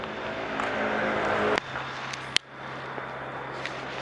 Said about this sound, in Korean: 아까부터 시동 걸어놨고요